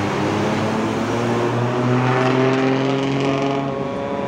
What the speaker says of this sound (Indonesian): Belakangnya ini bus kota baru tujuan